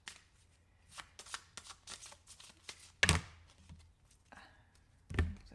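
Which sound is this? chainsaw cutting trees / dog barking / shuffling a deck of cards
shuffling a deck of cards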